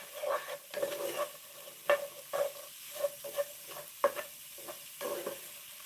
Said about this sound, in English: Right, we'll soften these onions and garlic up.